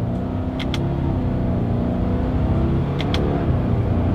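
A 2021 Subaru Crosstrek with a CVT accelerates hard on paddle shifters, a loud steady engine drone and road rumble heard from inside the cabin, with a couple of faint clicks near the start and later on.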